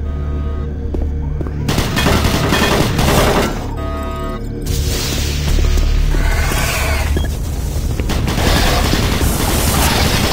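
Automated turret guns firing in the video game Doom 3, loud continuous bursts of gunfire and booms mixed with mechanical whirring over about ten seconds.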